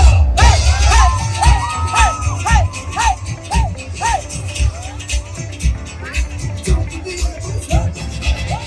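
A large festival crowd at the Birmingham Commonwealth Games 2022 cheers and shouts with raised hands, loud and continuous, with whoops rising over the din.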